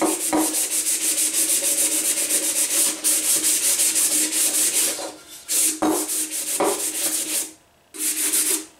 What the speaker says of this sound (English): I'm gonna distress it just a little bit with a little sanding block